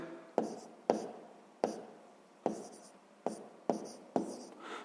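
Pen strokes mark numbers by hand in a notebook during a sixth-grade maths exercise, seven short scratchy bursts each with a sharp start, close and quiet, one after another.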